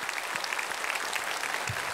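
Congregation clapping during a Sunday church service to welcome a newcomer, a brief burst of dense, lively applause from many people close by, steady and loud from start to finish.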